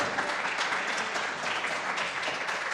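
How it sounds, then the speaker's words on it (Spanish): A church congregation applauding steadily during a sermon, a dense wash of clapping that holds at an even level throughout. "Dale un aplauso al Señor porque Él viene"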